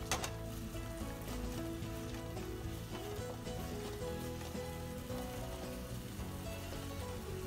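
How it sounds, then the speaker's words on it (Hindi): Veg Manchurian stir-fried on high flame, a steady dense sizzle and frying crackle that runs continuously and loud throughout, with no talk over it. "जस्ट मिक्स इट, इसको हमें हाई फ्लेम पर थोड़ा सा मिक्स करेंगे"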